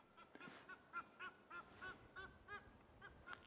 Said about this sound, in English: There goes an Egyptian goose heading towards the other